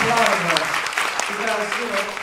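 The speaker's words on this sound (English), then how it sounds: "Please give her a big round of applause." Audience applause at a Toastmasters-style recitation contest, a dense steady wash of clapping from a crowd filling the whole stretch without a break.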